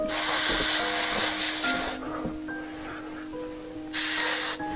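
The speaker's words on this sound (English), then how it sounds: "I'm going to spray in the same spots I have, just sparingly" A loud aerosol spray hisses through a stipple sponge in two bursts, a longer one at first and a shorter one after a quiet pause.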